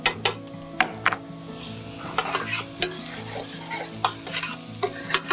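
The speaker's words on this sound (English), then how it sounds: "The onions are gonna start caramelizing." Onions sizzle in a skillet while a utensil stirs and scrapes the pan, steady frying hiss punctuated by repeated close metallic clicks and knocks, with no talking.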